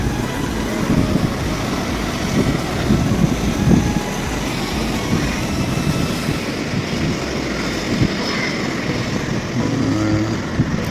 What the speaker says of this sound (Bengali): গাড়ি এসে পড়ছে বাইক দিয়ে আসছে